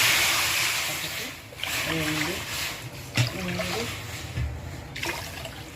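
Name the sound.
water being poured into a pan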